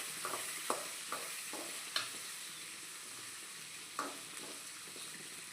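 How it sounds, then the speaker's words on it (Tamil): Onion sautés in a pan, a faint steady sizzle broken by a few sharp clicks and scrapes from a stirring utensil, with no voices. "இப்போ வெங்காயம் சேர்த்து வச்சு நல்லா வதக்கிக்கலாம்"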